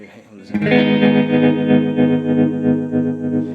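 An electric guitar runs through a JK Pedals Baby Doll Deluxe tremolo pedal, its sustained, distorted chord throbbing in a slow alternating pulse that swells and dips steadily for a few seconds, close and full.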